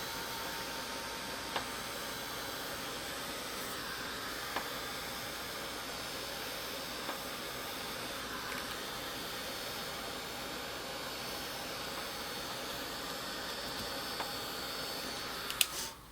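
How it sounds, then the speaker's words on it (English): Heat gun blowing to dry a watercolor card painted with Distress Oxide inks, a steady, faint airy whoosh that holds unchanged throughout, with a tiny click near the end. "take a heat gun and dry it a little bit, speed the process up"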